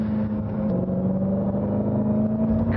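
A 2015 Dodge Challenger SRT Hellcat powering out of a corner, its engine a loud, steady, close rumbling drone held on the throttle throughout, with no talking.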